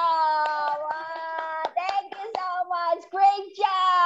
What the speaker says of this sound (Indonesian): tepuk tangan untuk Kak Pras dan Mama